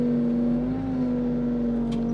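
A skid steer's engine straining while it lifts 3,300 pounds of concrete, a loud, steady, close droning hum that holds an even pitch throughout with no talking.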